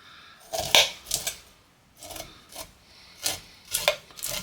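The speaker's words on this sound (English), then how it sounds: "now scrape that cob so you can get that old." A knife scrapes corn kernels off the cob in a series of close, sharp rasping strokes, about eight short scrapes in uneven rhythm with quiet gaps between them.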